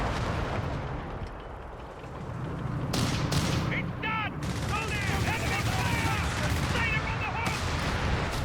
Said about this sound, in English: 17-pounder gun shoots the Getting Crowd and misses